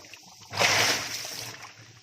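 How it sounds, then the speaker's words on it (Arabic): Water cascades inside a Toshiba 10 kg top-load automatic washing machine, a brief splashing rush that swells for about a second over a faint background before fading. "ده الجزء اللي تحت بيطلع شلالات صغيرة"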